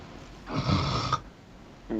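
A voice imitates loud snoring during a tabletop role-play game session: one drawn-out, raspy snore lasting under a second, fairly close, followed by a pause and the start of another breath.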